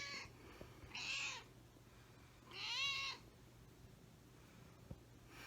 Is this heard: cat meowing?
yes